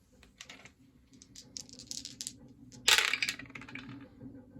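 Dice for a World War II board game clatter and tumble close up on a hard surface, with a run of small light clicks and taps building to a sharp, loud burst of rattling impacts before settling, no voices.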